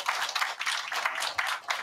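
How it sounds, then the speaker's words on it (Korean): A crowd claps at a political campaign office opening, the dense applause rising and falling in uneven bursts throughout. "박수 한번 보내주세요"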